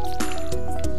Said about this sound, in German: Ich gieße die vorsichtshalber mal.